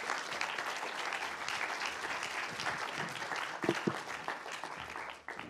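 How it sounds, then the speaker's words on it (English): An audience at an advertising industry leadership summit breaks into steady, dense applause, many hands clapping together at moderate volume with a few sharper claps standing out near the end. "But a big round of applause, please."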